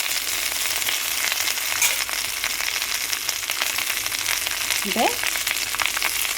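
Fresh agathi (hummingbird tree) leaves sautéing in a little oil for sambar, a constant close hiss of frying with faint crackles, a brief word spoken over it.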